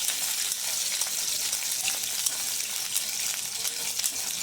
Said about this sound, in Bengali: তো আগে আমি রসুনগুলো ভেজে নিলাম।